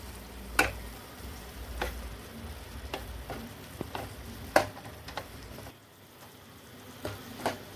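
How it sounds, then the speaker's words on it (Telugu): Garlic and tamarind frying in a pan for an amaranth leaf chutney, a faint low sizzle broken by sharp ladle clicks and scraping stirs at irregular intervals, no voices. "ఇప్పుడు ఇందులో ఎల్లిపాయలు వేసుకొని బాగా కలుపుకోవాలి."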